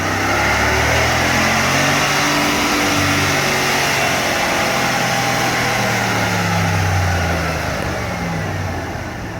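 A stock 2019 Dodge Ram with the 5.7 Hemi V8 revs on a dyno run, its loud engine rising and falling in repeated sweeps over steady roaring noise, easing off near the end.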